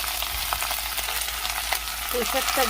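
Malabar spinach hits a pan of onion tempering in hot oil, giving a constant close sizzle with scraping stirs and a few light clinks of a utensil near the end.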